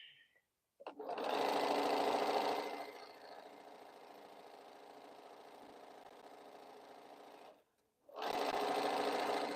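A Bernina sewing machine runs steadily, stitching quilt pieces, with a loud burst, a longer softer run, a brief stop, then a loud restart.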